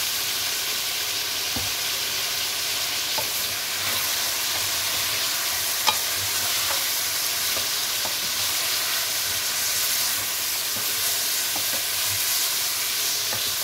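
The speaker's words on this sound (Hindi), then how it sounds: "अब चिकन हमारा फ्राई हो गया है।" Steady, close sizzling of chicken frying in a pan, a continuous crackling hiss with occasional small pops and stirring clicks.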